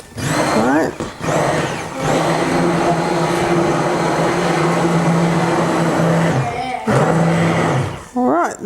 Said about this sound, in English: then with the blender, have another go at it